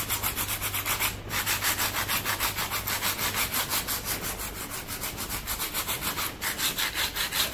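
Sandpaper rubs rapidly back and forth over a painted flowerpot coated with gold and a classic finishing paste. Steady, close, rhythmic abrasive strokes pause briefly twice, with no talking.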